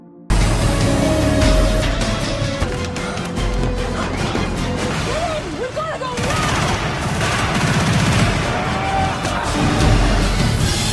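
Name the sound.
gunfire in a film scene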